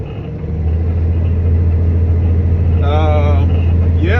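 A dump truck engine idles close by in a steady, loud low rumble that builds in the first half second and then holds, with a voice talking over it.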